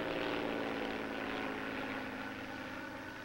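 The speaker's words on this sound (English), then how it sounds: "Here comes the plane." Propeller airplane approaching in a vintage Gammera monster movie, a steady loud engine drone with a broad roar and low hum that fills the whole stretch and eases slightly toward the end.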